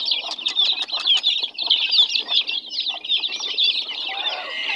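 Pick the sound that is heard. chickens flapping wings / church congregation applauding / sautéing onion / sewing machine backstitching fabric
chickens flapping wings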